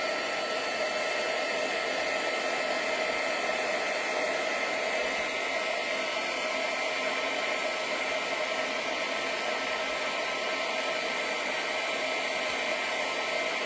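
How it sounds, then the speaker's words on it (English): A heat gun warms a paper craft piece, giving off a steady, even rush of blowing air, like a hair dryer, that stays loud and unbroken throughout with no talking. "now with my heat gun, I'm gonna heat it up"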